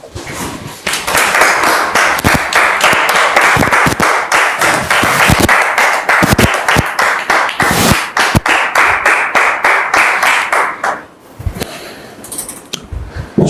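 A church audience claps steadily to welcome a guest pastor, Pastor Georges, onto a French Christian talk programme: a dense, loud stream of hand claps that runs almost unbroken and thins briefly near the end.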